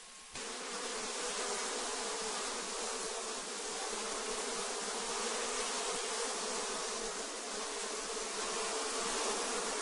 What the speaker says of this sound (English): Bees are bringing in large amounts of pollen